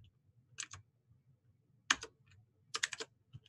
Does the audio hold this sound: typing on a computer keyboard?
yes